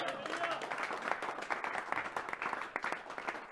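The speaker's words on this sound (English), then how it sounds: "Can we give the Lord a clap" A church congregation claps for the Lord at a faith gathering, a steady, moderately quiet patter of many hands with some audible talk mixed underneath.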